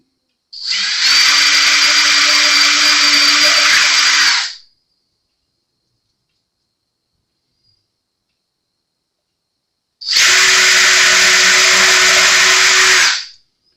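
A power drill bores into a brand-new Jazz Bass guitar body in two separate bursts, each lasting about four seconds, loud and close, with a steady whining motor tone and near silence in between.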